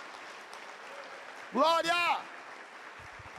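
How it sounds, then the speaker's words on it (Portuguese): A church congregation claps in a faint, steady wash behind a preacher, who shouts one word loudly over the applause midway. "Aplaudam ao Senhor por isto."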